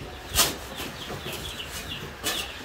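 Farm chickens kept where cattle used to be raised, giving soft scattered clucks and brief wing flaps, close and moderately loud against a quiet outdoor background.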